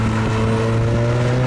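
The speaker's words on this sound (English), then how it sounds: "You got the whistle from the turbo." A steady tonal whine rides over the constant drone of a 1987 sports car's turbocharged engine, heard from inside the cabin while driving, loud and even throughout with no talking.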